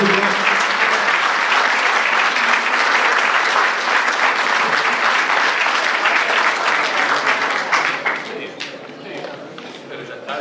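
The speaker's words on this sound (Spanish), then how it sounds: "Fuerte aplauso" Loud, sustained applause from the audience at an outdoor celebration of Baradero's 400th anniversary in 2015, with crowd noise and voices mixed in, steady for about eight seconds before thinning out.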